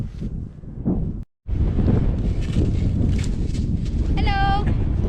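Gusty wind on an open afternoon, buffeting the microphone with a steady low roar throughout, broken by one brief dropout; voices talk over it and a short whistling tone rises near the end.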